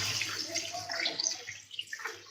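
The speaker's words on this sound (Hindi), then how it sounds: "इसके जो पानी के बबल्स हैं, स्टीम के बबल्स दोबारा बन रहे हैं" Pieces of spicy crispy chicken deep-frying a second time in hot oil, giving a steady close hiss and fizz of steam bubbles with dense crackling throughout.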